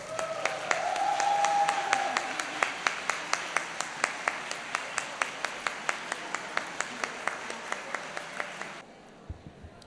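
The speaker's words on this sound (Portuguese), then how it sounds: "Então, uma salva de palmas aqui para os premiados." Applause for award winners at the closing general assembly of a scientific meeting, starting as a crowd wash that settles into steady rhythmic unison clapping, loud and regular, then stopping abruptly near the end.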